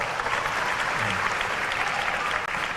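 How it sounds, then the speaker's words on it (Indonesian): Audience of student council leaders in Jakarta clapping continuously, a dense even applause from a crowd throughout. "Good, tepuk tangan."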